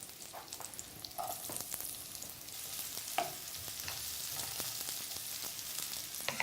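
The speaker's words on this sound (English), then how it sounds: "while those are frying away" Steady close sizzling and crackling of onion and celery frying in a pan, with occasional soft pops and stirring clicks.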